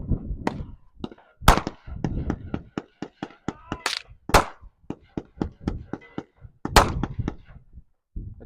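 Sharp handgun shots crack one after another at a shooting range, a steady series of close, loud reports with short gaps, some overlapping distant shots from other lanes, and brief talk between them.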